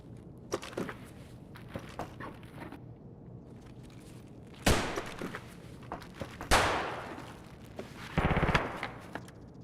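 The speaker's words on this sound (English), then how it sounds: "There's someone on the map who's still shooting guns." Scattered bursts of gunfire in Escape from Tarkov, from sharp single shots to rapid automatic volleys, with several loud close blasts among quieter distant pops.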